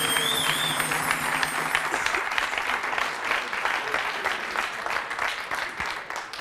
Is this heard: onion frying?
no